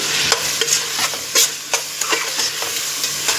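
Onions and tomatoes frying in a pan for Andhra-style mutton dum biryani crackle loudly and close, with repeated sharp scrapes and clacks of a spoon stirring through them over a steady sizzle.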